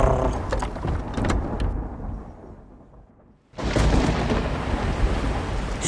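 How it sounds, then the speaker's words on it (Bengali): A storm effect of heavy rain with rolling thunder, loud and dense, fading to a brief near-silence before a sharp crash of thunder and renewed downpour. "বাইরে ঝিরিঝিরি বৃষ্টি হচ্ছে।"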